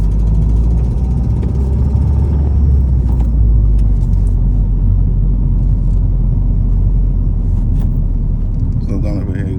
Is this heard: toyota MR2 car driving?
yes